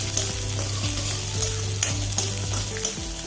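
Chopped onion and garlic frying in a tablespoon of oil in a kadai, a close, steady sizzle with occasional crackles and scraping stirs, continuous throughout without talk.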